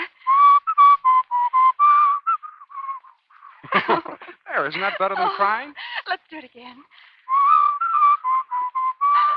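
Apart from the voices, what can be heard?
human whistling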